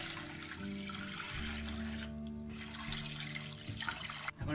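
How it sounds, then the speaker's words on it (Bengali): Water poured into a pan of lightly fried vegetables and shrimp for prawn soup, a continuous rushing splash lasting a few seconds that cuts off abruptly near the end, close by with no talking. "একটু ভাজি করে এর মধ্যে পানি দিব।"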